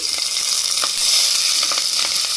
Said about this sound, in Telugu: నెయ్యి వేడెక్కింది, అందులో కొద్దిగా జీలకర్ర ఆవాలు, పచ్చిమిర్చి